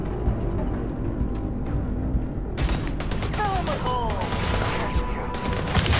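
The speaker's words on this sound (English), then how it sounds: "Shooting at me." Rapid gunfire bursts from a firefight in the video game Starfield on PS5 Pro, a dense spatter of shots that kicks in sharply midway and keeps rattling, with a voice speaking over parts of it.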